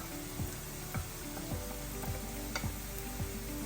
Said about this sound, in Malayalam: സവാളയൊക്കെ നന്നായിട്ട് വഴന്ന് വന്നിട്ടുണ്ട്. അതിലോട്ട് മുളക് പൊടി,